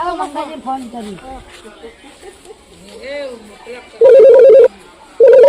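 A mobile phone rings twice in loud electronic bursts right after people chatting nearby, the second ring starting after a short pause.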